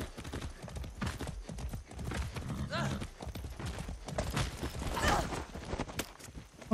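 A tired horse in the video game Far Cry 6 clip-clops along in a quick hoof rhythm with occasional snorts and whinny-like tones, heard close and moderately loud.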